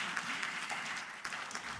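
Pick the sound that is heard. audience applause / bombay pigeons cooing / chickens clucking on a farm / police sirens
audience applause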